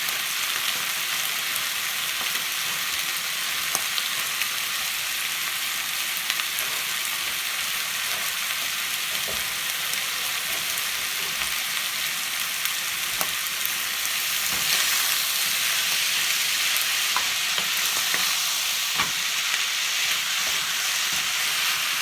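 Chopped green onions stir-fry in a hot pan with a steady, even sizzle and faint scraping from stirring, close and continuous with no talk.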